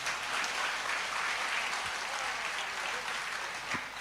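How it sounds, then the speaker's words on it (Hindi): Audience applause at a Hindi comic poetry recital, a steady broad wash of clapping that holds throughout at moderate, fairly distant loudness. "आपकी तालियों से किसी का हौसला हो जाता है"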